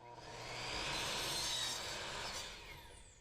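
A miter saw cuts through wooden window trim with a faint, breathy rasp that swells and fades over about three seconds, alone and fairly distant.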